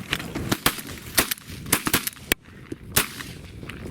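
Shotgun blasts during an opening-day duck hunt, a rapid volley of sharp, loud reports spaced unevenly across the stretch, with some shots overlapping, outdoors with no talking.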